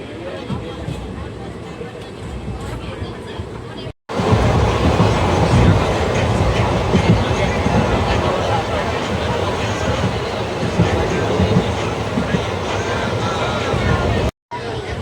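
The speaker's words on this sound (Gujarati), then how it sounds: "જેતપુરથી ટ્રેન ડિપાર્ચર થઈ ગઈ છે।" A Bhavnagar–Porbandar passenger train, number 59557, pulls away from Jetpur and rolls on with a steady rumble and rhythmic clickety-clack of wheels, heard loud and close from on board, with voices in the background.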